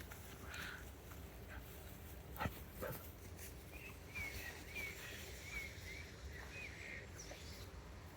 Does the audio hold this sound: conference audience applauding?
no